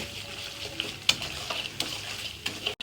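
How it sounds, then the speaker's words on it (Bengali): Dried fish (shutki) frying in a pan, a steady soft sizzle with occasional sharp crackles and stirring scrapes, heard close and alone. "এদিকে শুটকিটা হচ্ছে ভালোভাবে ভেজে নিচ্ছি"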